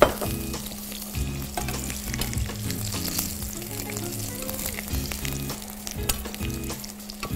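Sliced eggplant fries in a pan with just a little oil, giving a constant close sizzle broken by the scrape and clatter of stirring.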